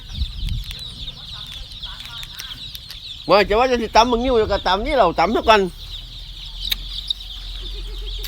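Backyard laying hens cluck in a burst of loud, rhythmic calls close by, set against a steady high insect drone, while people talk intermittently around them.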